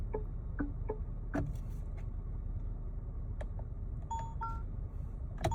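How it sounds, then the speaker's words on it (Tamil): Turn indicator chime option on a Mahindra car, a few soft electronic ticks and short tonal beeps sounding sparsely over a steady low cabin hum, fairly quiet and without talk. "first இண்டிகேட்டரோட sound"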